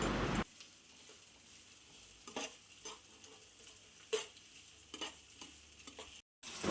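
Chopped onions sizzling quietly in a pan while being stirred, with soft intermittent scrapes and spatter over a low frying hiss, fairly faint and close.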